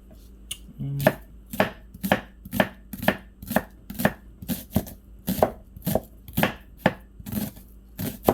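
A knife chops down through a large onion on a board in a home kitchen, about a dozen crisp, evenly spaced cuts close by with no talking.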